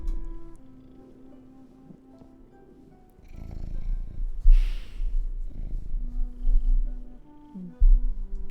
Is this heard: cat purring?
yes